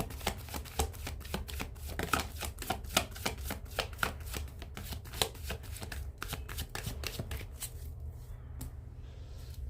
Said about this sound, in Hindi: one more and last shuffle angels